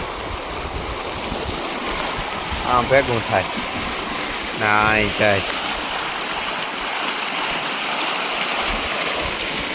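Floodwater from record heavy rain rushing across farm fields that have turned into a river, a continuous broad close roar of flowing water with a few brief voices speaking over it.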